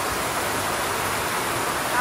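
Heavy typhoon rain hammers a farm roof in a dense, steady hiss of broadband noise that stays loud and unbroken throughout, with a voice faintly beneath it.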